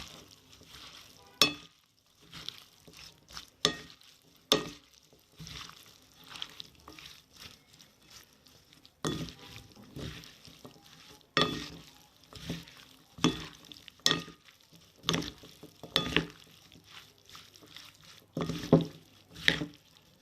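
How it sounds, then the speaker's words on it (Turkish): Zahter salad, a Hatay meze of wild thyme dressed with oil, being stirred in a bowl, giving scattered soft clinks and wet mixing scrapes in short irregular bursts with quiet gaps. "Ve yağ. Şimdi güzelce bir karıştıralım."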